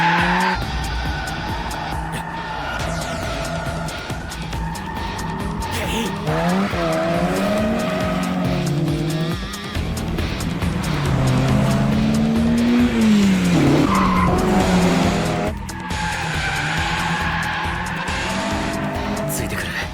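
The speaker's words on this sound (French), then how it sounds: "Takumi, il arrive dans les roues de la RX-7 de Keisuke et s'ensuit alors selon moi, un des meilleurs duels de Initial D" Cars drift hard in an Initial D mountain pass duel, including a Mazda RX-7, with engines revving up and down and long wavering tire squeals under dramatic music, loud throughout.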